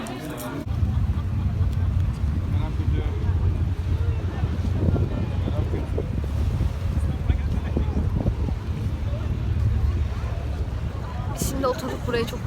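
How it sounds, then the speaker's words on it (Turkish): Strong wind over the choppy waters of the Bosphorus buffets the microphone in a constant low roar, with faint talk underneath throughout. "Bayağı dalgalı falan ve çok da rüzgar var."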